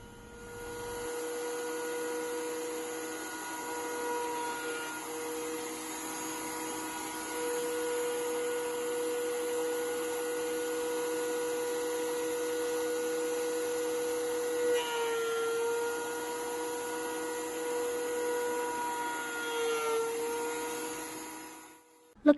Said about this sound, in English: First was the planer to flatten it.